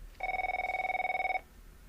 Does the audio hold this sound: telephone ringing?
yes